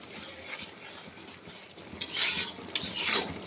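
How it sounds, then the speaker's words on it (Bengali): A spoon stirs mustard shrimp curry with coriander leaves in a pan, giving soft scraping and two louder swishing strokes up close against a quiet background. "ধনে পাতা দিয়ে একটু নাড়িয়ে নেবো।"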